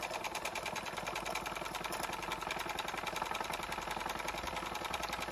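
A Wilesco D21 toy steam engine runs faster with its valve opened, giving a fast, even mechanical chuffing and clatter that continues without pause, close and steady.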